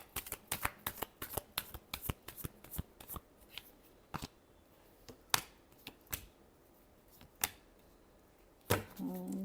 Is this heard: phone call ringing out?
no